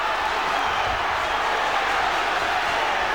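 A boxing arena crowd roars in a dense, loud, continuous wash of cheering and shouting, with no individual voices standing out.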